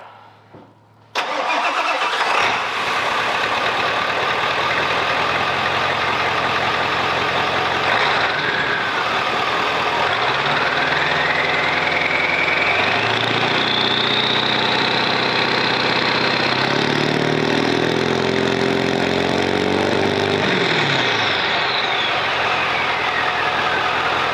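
A Ford OBS 7.3 diesel truck engine cranks and fires, then settles into a steady, loud idle close by with a little revving and whine, running alone without talk.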